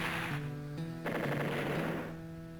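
Artillery firing in Advance Wars, a chiptune-style burst of rapid rattling shots over a sustained synthetic tone, moderately loud and without talk.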